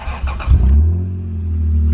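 Car with a Toyota 7MGE engine and automatic transmission, exhaust leaking, revved once with a rising roar, then a deep, throaty idle that settles close by, no talking.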